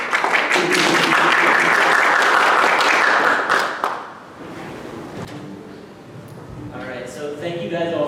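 An audience applauds to welcome a thesis presenter in political science, loud dense clapping for about four seconds that then fades to scattered claps under a voice speaking.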